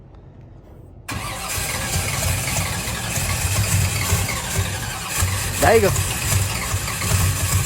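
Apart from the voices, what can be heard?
truck engine warming up for two-step check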